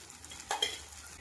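Ground spice paste and strained beaten yogurt frying in oil in a pan, with a soft sizzle and a short clatter of stirring near the middle, fairly quiet.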